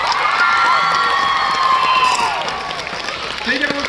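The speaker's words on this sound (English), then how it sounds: "Final round of applause for these guys!" Loud crowd cheering, whooping and clapping at a live BFDI tour Q&A show in Los Angeles, many high voices shouting over continuous applause that eases off slightly near the end.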